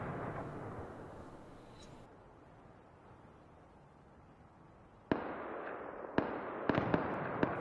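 After a stretch of low rumbling, several sharp, distant gunshots in the game Rust crack out in an irregular burst, popping like far-off fireworks.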